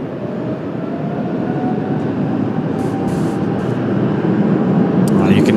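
Aircraft engines spooling up at Washington Dulles airport on a cloudy, damp day, a broad distant roar that swells gradually in loudness, steady and continuous.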